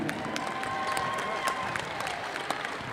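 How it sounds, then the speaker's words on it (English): Applause from the crowd at a girls' 3A North Region basketball championship, steady clapping filling the gym, with scattered cheers. "Let's give him a round of applause"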